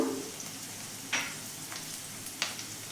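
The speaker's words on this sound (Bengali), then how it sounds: "এই ছোলার ডালটাকে একটু নেড়ে নিচ্ছি" Chana dal sizzles steadily while it fries in a pan with spices. A few sharp scrapes of a spoon stirring through it stand out, and no one speaks.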